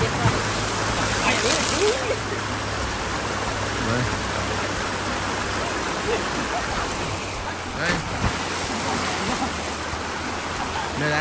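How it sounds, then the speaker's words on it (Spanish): Small waterfall cascade on the Río Claro in Quezaltepeque, a steady broadband rush of falling water running the whole time, close and fairly loud, with a brief splash near the end. "La cascadita ahí está."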